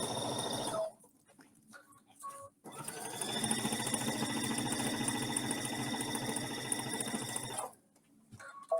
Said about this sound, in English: So she's sewing 1/4 inch over here